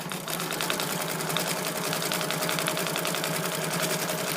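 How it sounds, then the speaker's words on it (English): A Bernina sewing machine with a circular embroidery attachment sewing a decorative stitch, a steady fast mechanical whir and chatter, close and even with no pauses. "the machine just pivots the fabric because the feed dogs are doing all the work"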